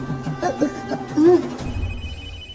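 A telephone rings with a few electronic trills in the first second and a half, then gives way to a low rumble.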